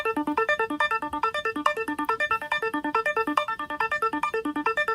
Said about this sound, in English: so the arpeggio on its own sounds like this